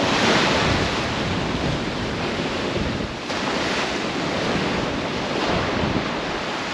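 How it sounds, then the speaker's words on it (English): Ocean surf washes onto a beach at night in a steady, loud, unbroken roar, with gusty wind buffeting the microphone and no voices. "I'm out here at the night beach, the night ocean, getting my feet wet out here."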